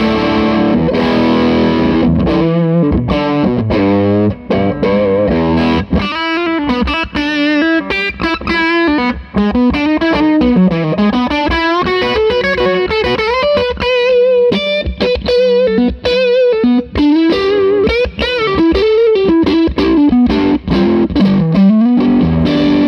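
An electric guitar runs through a Fuzzrocious Feed Me fuzz pedal together with a Shipwreck pedal, producing a loud, thick fuzz tone as a continuous melodic lead line with bending notes over steady strummed chords, close and without voices.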